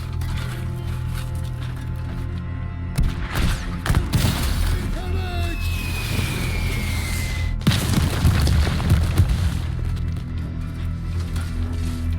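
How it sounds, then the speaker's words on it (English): Artillery barrage explosions in the war game War Hospital: a run of deep booms and thuds, two heavy clusters a few seconds apart, with a whistling shell streak between them over a steady low rumble. "But artillery barrage inbound."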